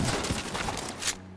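A shotgun fires in The Division 2, a burst of several close, sharp blasts in quick succession followed by a short, quieter tail.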